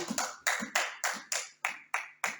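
Congregation clapping in rhythm at a church prayer service, eight sharp, evenly spaced handclap bursts about three per second, close and full, with no talk over them.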